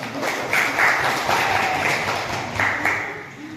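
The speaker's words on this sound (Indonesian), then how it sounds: "Kasih aplaus untuk kelompok 2." Classroom applause for a student group after their presentation, a steady mass of clapping from many hands lasting several seconds with small swells, fairly close and without talk over it.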